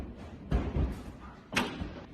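Large hail pounds down during severe weather near Uvalde, hitting a surface in a few heavy, separate thumps over a softer background rattle.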